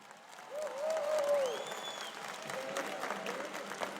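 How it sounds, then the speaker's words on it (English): A high school graduation audience applauds in a large venue, a broad distant wash of clapping that swells and holds, with a faint voice and tones over it. "A round of applause."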